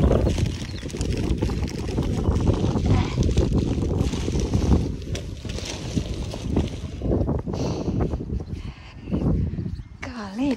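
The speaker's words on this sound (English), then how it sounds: "Windy." Gusty wind buffets the microphone outdoors on a cold backyard day, a loud, continuous rumbling roar that swells and eases throughout.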